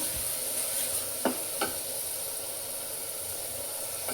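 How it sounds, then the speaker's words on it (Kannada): Onions fry in hot oil in a cooker with a steady, soft sizzle, interrupted by a couple of brief scraping stirs, with no voices over it. "ಈರುಳ್ಳಿ ಫ್ರೈ ಆಗ್ತಾ ಇದೆ"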